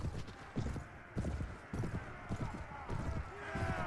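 Galloping horse hooves in Mount & Blade: Warband (Floris Edition) as a mounted rider charges down an enemy soldier, steady repeated clip-clop beats under game noise with a brief whinny near the end.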